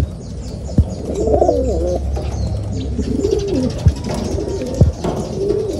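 The racing pigeon Salpok cooing close by in soft, repeated low warbling phrases, with a few sharp knocks or taps and faint chirps from other birds in the background.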